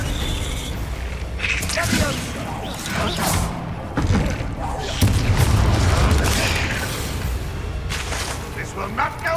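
Blasts and heavy thuds from the Confringo explosive spell in the game Hogwarts Legacy, several booming impacts and crashes mixed with game voices speaking over the action.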